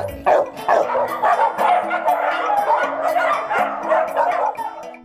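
Many dogs bark at an animal shelter on the outskirts of Brasília, a dense overlapping chorus of yips and barks, loud and continuous with a few whimpers.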